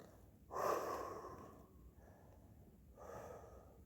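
Two close, fairly loud breaths, a strong exhale near the start and a softer one toward the end, taken by a rink hockey goalkeeper doing a quadriceps stretch with legs flat on the ground.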